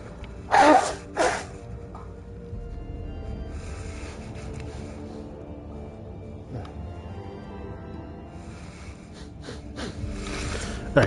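A single sharp sneeze comes near the start, followed by a snort. After that there is a quiet room with faint breathing and small rustles.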